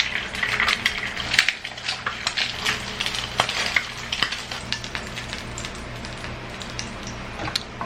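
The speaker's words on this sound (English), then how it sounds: "And I am gonna fry an egg because who doesn't like eggs in their rice?" An egg fries in a hot pan at home, giving a close, steady crackling sizzle with rapid popping spatters that slowly thin out.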